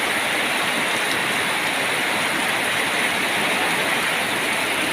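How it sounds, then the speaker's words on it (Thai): Heavy evening rain pours down in the Thai countryside as a dense, even hiss that stays loud and constant from start to end, with no talking. "ฝนตกหนักเลยนะครับ"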